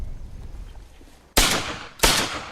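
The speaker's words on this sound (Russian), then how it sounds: "Но Стив продолжает отправлять пули точно в цель." Two loud, sharp rifle shots ring out outdoors during a pigeon shoot, about half a second apart, each with a quick decaying echo over faint background noise.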